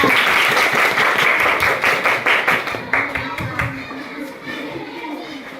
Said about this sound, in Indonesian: Tepuk tangan, Bunda